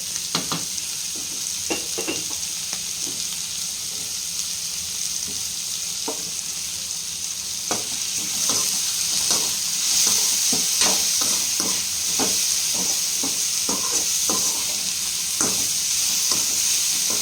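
Salted vegetables for homemade noodles fry in a pan, a soft steady hiss punctuated by repeated clicks and scrapes of a stirring spoon that grow busier and louder halfway through, heard close with no voices.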